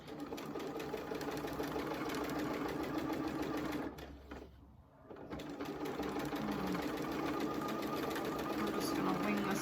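A sewing machine stitches a quilt block in a steady fast close whir, stopping briefly midway for a pivot with the needle down, then resuming; a voice talks over it throughout.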